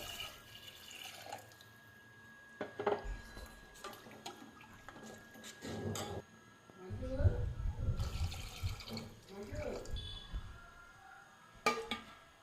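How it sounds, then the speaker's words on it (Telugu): Water pours and splashes into a bowl of spice paste for fish curry in a few short bursts, with kitchen clatter and pauses between them. "ఇప్పుడు వాటర్ కూడా పోసుకుందామండి"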